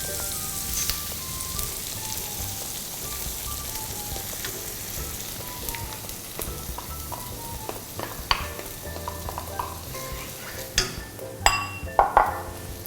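Cream poured into a pan of sizzling ham and sauce for fettuccine Alfredo, a steady close frying hiss with occasional spoon scrapes and clinks against the pan growing toward the end, no talking.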